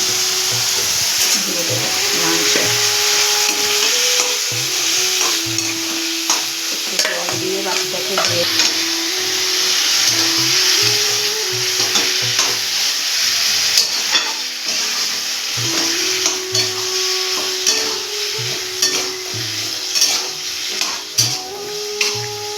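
Spices with salt and turmeric frying in a pan for chicken khichuri give a loud, continuous sizzle with steady scraping as they are stirred, a tonal background hum running underneath and no one speaking.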